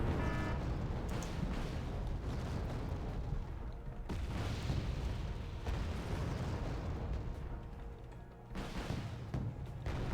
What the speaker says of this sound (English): And also being hit by artillery.